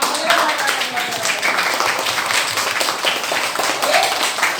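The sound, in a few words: clapping to end the lesson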